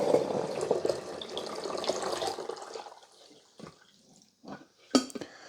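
Fresh water poured into the reservoir of a Braun KF187 12-cup coffee maker: a steady splashing pour for about three seconds, then quieter drips and a few sharp plastic clicks and knocks up close.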